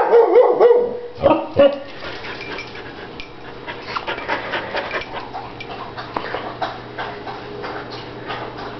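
A dog named Mercedes lets out several sharp barks close by in the opening seconds, then pants and shuffles quietly, with a faint ticking hum in the background.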